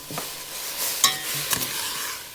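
Meat is stir-roasted in a pan for a Thai meat curry: a soft sizzle with a few quick, close scraping stir strokes.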